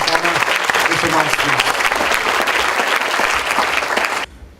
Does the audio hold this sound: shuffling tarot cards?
no